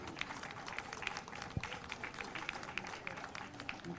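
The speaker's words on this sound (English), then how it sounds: "a big round of applause to all those who are serving our community as well" An audience applauds community officials at a City of Miami Beach event with steady, even clapping that carries on throughout, fairly soft and moderately distant.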